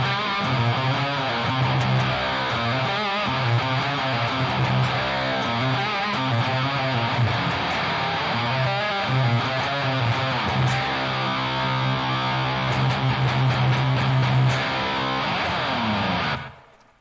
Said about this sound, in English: I throw on a Boss HM2 that I happen to have lying around in a drawer somewhere